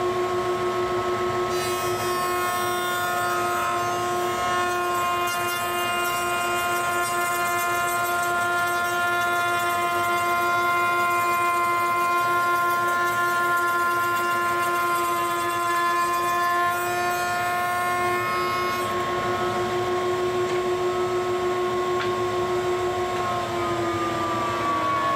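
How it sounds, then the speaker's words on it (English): A router table cuts a rabbet into a wooden frame for a whiteboard, the motor holding a steady loud whine with sustained tones throughout and the pitch easing slightly near the end. "So let's get that done over at the router table"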